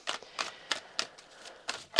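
Tarot cards are shuffled by hand in short, crisp riffling bursts, about seven quick flurries spaced irregularly, close and fairly quiet with no talking.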